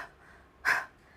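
A voice imitating panting as a Jolly Phonics letter sound, one short breathy puff of air after a brief pause, close and clear.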